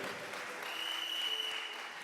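A church congregation applauds in steady, dense clapping that fills the room without a break, a continuous crowd sound with no distinct voices.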